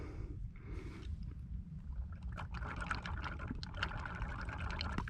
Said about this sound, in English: I'm gonna blow through that hole, and then you tell me if you see any bubbles coming out of this bottle